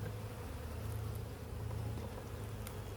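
Honeybees crawl over a frame lifted from the upper super of a hive, giving a steady, faint, dense hum that holds level for a few seconds with no talk over it.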